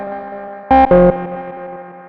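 Guitar-like tones run through a Boss Space Echo RE-202 tape echo pedal, with two loud distorted bursts followed by sustained ringing harmonic repeats that fade gradually.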